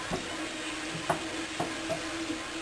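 A spoon scrapes and taps through ground meat frying in a pan, breaking up the clumps in a few distinct strokes over a steady quiet sizzle.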